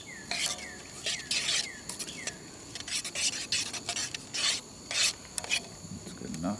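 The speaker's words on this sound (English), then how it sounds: "Give it a little stir. Make sure that butter is all melted right." A utensil scrapes and rubs around a Toaks titanium pot while butter melts, probably with rice added, giving close, repeated rasping strokes in short bursts with brief pauses between them.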